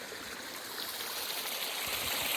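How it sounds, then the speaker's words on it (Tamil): Irrigation water flowing through paddy farmland, a steady soft rushing and trickling like a small stream, continuous and even with no voices. "தண்ணி போயிட்டுருக்கு"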